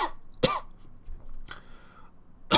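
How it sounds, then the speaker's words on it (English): A man coughs several times in sharp, close bursts separated by short pauses, a brief throat-clearing sound in between, with no talking. "I just had a nice coughing attack."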